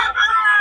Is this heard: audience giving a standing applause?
no